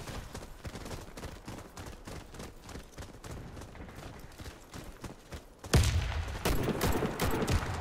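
Gunfire in the online shooter Warface on a factory map, rapid volleys of shots crackling in the distance, then a louder, closer burst of automatic fire near the end.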